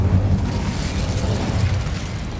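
A fire spell bursts in the Hogwarts Legacy video game, giving a loud, rumbling, explosive roar that holds steady and fades slightly toward the end.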